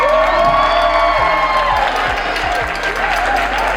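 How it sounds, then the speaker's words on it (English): Wedding guests applaud and cheer at a ceremony at High Billinghurst Farm, a steady wash of clapping with a few whoops, while music with a low pulsing beat plays loudly underneath. "let's all give a big round of applause to Robocop"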